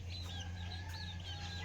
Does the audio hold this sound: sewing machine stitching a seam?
no